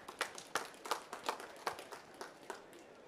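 Scattered hand clapping, fairly faint and a bit distant, with claps landing irregularly rather than as a full applause roar.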